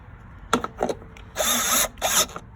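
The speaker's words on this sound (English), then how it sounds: "now I just got my drill here, and we'll just reassemble" A cordless power drill runs in short bursts while Craftsman tractor steering parts are put back together after a bushing replacement: two brief whirs, then a longer sustained run and a final short burst, close and loud.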